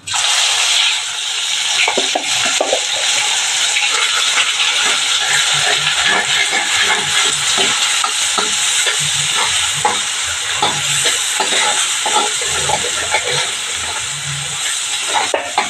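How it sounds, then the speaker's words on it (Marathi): Ground spice paste sautés in hot oil with curry leaves and a pinch of asafoetida, giving a loud, dense, continuous sizzle with scattered spatula scrapes and stirring close by. "आपण हे चांगलं तेल सुटेपर्यंत वाटप परतणार आहोत."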